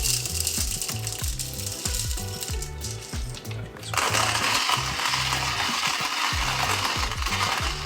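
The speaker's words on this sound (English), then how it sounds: "This grinder is a Hario grinder." Hario hand coffee grinder crushing coffee beans: continuous close crunching and ratcheting with a steady rhythmic crank cycle that grows harsher and grittier partway through, with no talk.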